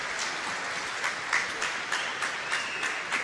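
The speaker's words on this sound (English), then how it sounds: "the crowd actually goes wild for them" A crowd applauds the Czech bronze medalists at a curling world mixed doubles championship, with scattered clapping swelling in several bursts and a faint voice underneath, heard from a distance in an arena.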